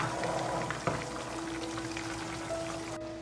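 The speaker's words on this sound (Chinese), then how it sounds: "煮好的肉片呢，倒在酸菜上面" Cooked pork slices poured onto pickled cabbage, a steady soft splashing of hot broth and meat into a bowl with a brief clink near the start.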